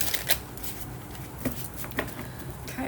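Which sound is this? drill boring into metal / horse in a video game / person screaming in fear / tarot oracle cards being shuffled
tarot oracle cards being shuffled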